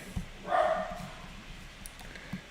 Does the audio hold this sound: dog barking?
yes